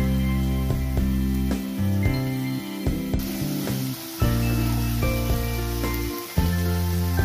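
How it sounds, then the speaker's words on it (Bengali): Soy, chili and tomato sauces hit a sautéed spice mix in a hot pan, giving a steady, close sizzle that runs throughout with a few brief surges, over a sustained tonal background. "এবার সতে করা মশলাটার মধ্যে soya sauce, chilli sauce, tomato sauce add করে দিলাম।"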